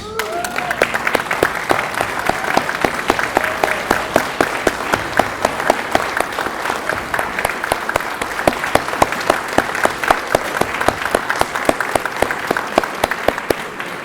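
Steady, dense round of applause from a banquet audience honoring community college faculty and staff, sustained and even for the whole stretch with no break.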